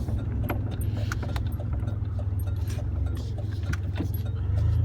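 A truck cruises on rural back roads, heard from inside the cab as a steady low engine and road rumble with small rattles and clicks throughout.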